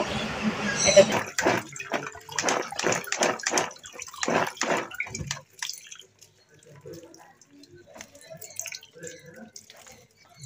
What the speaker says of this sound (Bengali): এখানে হচ্ছে সবজিগুলো ভালোভাবে ধুয়ে নিচ্ছি।